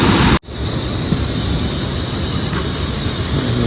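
A small mountain stream flows steadily along a hillside trekking trail, a continuous broadband rush that stays close and fairly loud, with a brief gap near the start.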